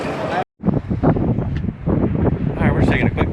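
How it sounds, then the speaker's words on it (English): Gusty wind buffets the microphone with rumbling low-end blasts, under and around a person talking outdoors at an archery tournament. "And I apologize for the wind now. It is windy."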